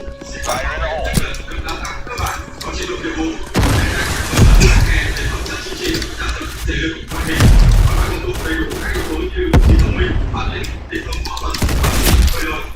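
Video game combat with a grenade blast and bursts of gunfire: repeated loud booms and crackling shots come in waves. Voices are heard along with the action.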